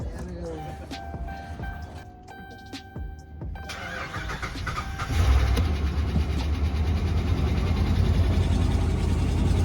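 A 2009 Dodge Ram SLT truck with corrosion turns over and fires up midway, settling into a loud, steady idle rumble, with voices talking around it.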